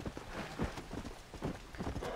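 Hooves of a Hungarian half-breed horse in Red Dead Redemption beat out a steady clip-clop gait, a handful of quiet, rhythmic hoof strikes close by.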